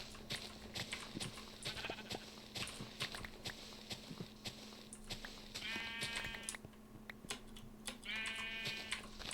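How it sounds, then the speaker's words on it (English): Sheep on a Minecraft hardcore farm let out two clear, drawn-out bleats over a busy stream of clicks and footstep-like taps, with no talking. "Yes, yes, I hear you, sheep."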